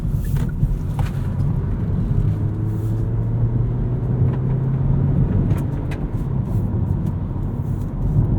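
A 2018 Hyundai IONIQ plug-in hybrid car heard from inside during handling driving, with a steady low road and engine rumble, rising tones as it accelerates and tire and wind noise throughout.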